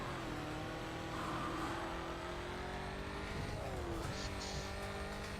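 A race car engine in the video game Need for Speed: Carbon revs steadily at high pitch, its tone rising and falling through gear changes, with a brief tire-squeal-like sweep near the end and no talking.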